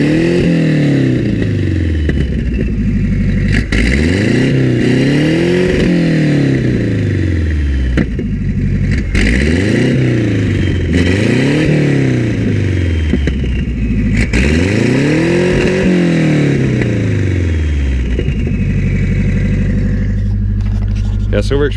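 Turbocharged rally car engine, a home build, revving repeatedly: loud, close engine rising and falling in pitch in rhythmic cycles, with chuffing turbo whooshes between the revs and a voice talking over parts of it.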